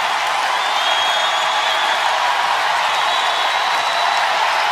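Crowd noise in a basketball arena, a loud, continuous roar of many voices and cheering that stays at a high, steady level throughout, with no distinct speech standing out.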